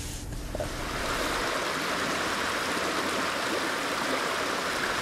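The Bistraude river in Victoriaville flows with a continuous broadband rushing, like running water, steady and fairly close after a brief quieter start, with no voices.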